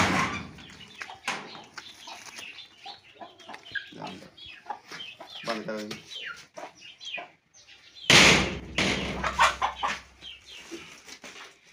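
Aseel hens and chicks cluck and chirp close by amid rustling and handling noise, with a brief burst of flapping and short spoken words mixed in.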